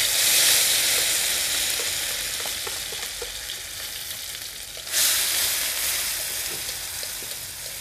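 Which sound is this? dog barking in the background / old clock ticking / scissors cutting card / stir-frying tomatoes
stir-frying tomatoes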